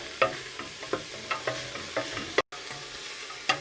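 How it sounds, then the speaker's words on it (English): Carrots sauté with other vegetables in a pan, a soft background sizzle broken by sharp, regular scrapes and clinks of a stirring utensil about every half second, with a brief dropout near the end. "And you'll just stir those up with the other veg, again, for about a minute."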